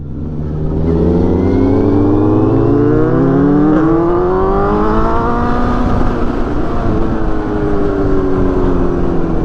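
A Yamaha MT-09 SP motorcycle's exhaust under hard acceleration, a loud close engine note climbing steadily in pitch through the gears for several seconds, with no talking.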